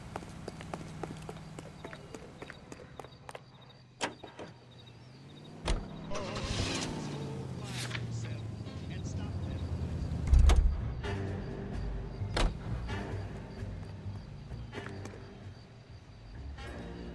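A car driving in the video game LA Noire, a low engine rumble running throughout, broken by sharp mechanical clicks and clunks, with no talking.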